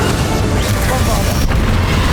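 Bombarda spell explosion in the video game Hogwarts Legacy during a final boss fight, a loud, dense, sustained boom filling the whole short span, with a brief dip midway.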